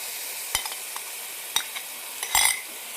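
Yogurt goes into a pan of fried-down masala for a beef bone salan and is stirred, giving a few scraping spoon strokes and a brief louder burst of sizzle over a quiet background.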